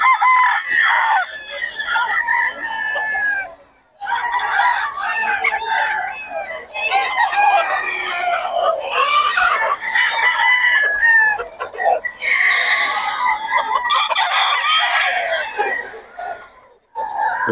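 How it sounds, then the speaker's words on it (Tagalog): A dense chorus of chickens and roosters at a game farm, with loud overlapping crowing and clucking that continues almost without a break and pauses only briefly. "Ang gulo ng mga manok dito."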